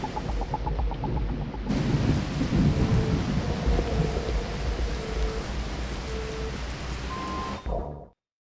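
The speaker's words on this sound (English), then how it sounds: "It's raining and it's going to be slippery." Heavy rain hisses steadily with rolling thunder rumbling low throughout in the Exo Rally Championship racing game, a loud, continuous storm bed that cuts off abruptly at the end.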